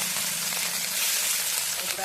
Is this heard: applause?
no